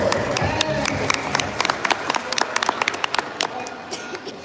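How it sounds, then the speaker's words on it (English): An audience at an outdoor watersports talks event gives a round of applause for a presenter from an outdoor equipment company, a dense patter of claps that thins into scattered individual claps toward the end. "Let's give him a round of applause."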